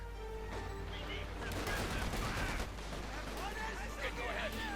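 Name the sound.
gunfire in video game Company of Heroes 2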